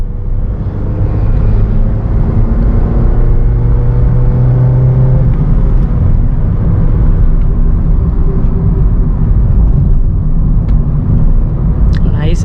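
Honda WR-V BS6 engine drones under load in third gear with a steady rumbling cabin hum, loud and constant, while a person talks over it.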